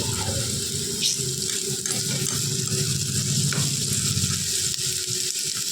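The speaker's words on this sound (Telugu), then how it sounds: "ఇంకా కొంచెం ఫ్రై అవ్వాలి" Puri frying in hot oil at home in a kitchen, a steady broadband sizzle and bubbling that holds at an even level throughout with no pauses.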